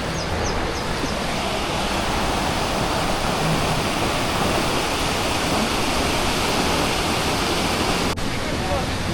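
Sawatsada waterfall in Maharashtra roars loud and close, an unbroken wall of rushing water that holds constant throughout, with a single brief click near the end.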